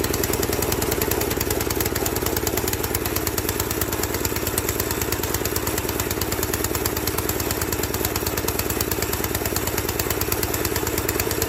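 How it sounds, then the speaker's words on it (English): A firewood conveyor's small motor idles steadily at low speed, a continuous even putter with a fast regular pulse, close by and running alone without any talk. "The motor's just barely got to be on idle for it to be moving this fast."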